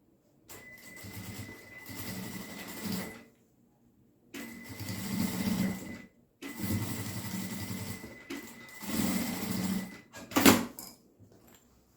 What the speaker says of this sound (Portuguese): Faço essa costura no tamanho de um pé de máquina.